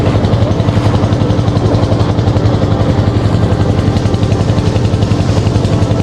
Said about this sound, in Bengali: এই হচ্ছে আমাদের ছোট্ট ট্রলার